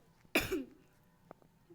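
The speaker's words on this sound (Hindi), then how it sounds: "तो बहुत ज़्यादा खांसी आ रही है।" A single sharp cough bursts out close to the microphone during a Minecraft gaming session, a short harsh burst followed by a rougher tail, with faint clicks and quiet room noise after it.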